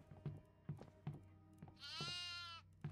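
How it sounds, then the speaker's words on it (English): A goat in the horror game Devour lets out one drawn-out, wavering bleat, fairly close, over a steady rhythm of dull thumping footsteps. "Oh, I found another goat."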